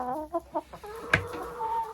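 Hens cluck inside a warm chicken coop, a close run of short rhythmic clucks and one sharper squawk, with no talking.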